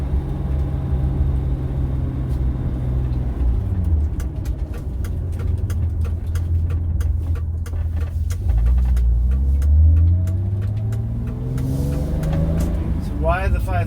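BMW E28 535is being driven, its engine rumbling and revving through gear changes with rising and falling pitch, close and fairly loud with road noise, and a voice talking over it at times.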